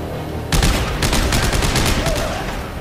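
Gunshots in the video game Dead Space 3: a loud volley of rapid, repeated shots breaking in after a moment of ambient noise and rattling on to the end, with no talk.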